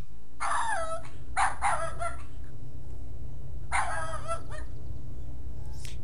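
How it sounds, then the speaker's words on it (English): A dog barks and yelps in short clusters of two or three, with a low droning hum throughout and quiet gaps between the bursts, in the video game King's Quest VII: The Princeless Bride. "if you do it while the dog is barking"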